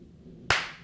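A single sharp hand clap, loud and close, rising out of near silence and trailing off quickly with no talk around it.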